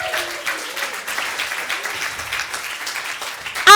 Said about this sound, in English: And a big round of applause to the audience for being so fantastic.